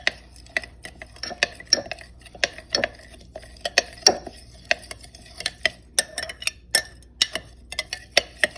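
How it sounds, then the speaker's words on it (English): A spoon stirs herbal hair oil of rosemary, hibiscus and fenugreek seeds in a pot, producing a run of sharp, irregular clinks and taps against the metal, close and fairly quiet, with no voices. "So now we're gonna stir it before we put it on the"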